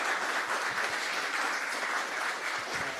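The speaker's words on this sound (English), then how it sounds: "So let's give a warm round of applause." Soft, even applause from an audience after a presentation at an afternoon expo session, a continuous patter of clapping heard at a moderate distance with no one speaking.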